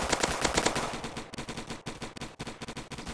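Rapid automatic fire from the ghost gun in the Roblox Zombie Attack game, dense rattling bursts of shots in quick succession with brief gaps between volleys, loud and close, with no voices.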